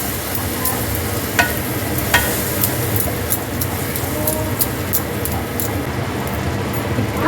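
A yogurt mixture being stirred for egg biryani in a home kitchen, with steady scraping and mixing noise throughout and a few sharp clinks of the utensil against the pot.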